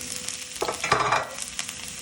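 Tricolour bell peppers hit hot oil in a pan for Nigerian fried rice, sizzling close and moderately loud with stirring clatter and a brief louder burst as they go in.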